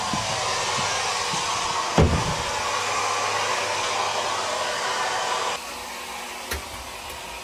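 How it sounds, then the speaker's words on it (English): A steady, loud motorized whoosh of a vacuum cleaner runs throughout inside a Tiffin Super C motorhome, with a couple of sharp knocks and a shift in tone near the end. "She's running the vacuum."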